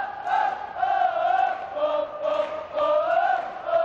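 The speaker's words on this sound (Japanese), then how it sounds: "サポーターの声援を受けてアビスパの選手がピッチに出てきました。" A large stadium crowd in the 1997 soccer video game J.League Winning Eleven 3 roars and cheers steadily as Avispa Fukuoka take the pitch, a broad wash of many voices swelling and dipping without pause.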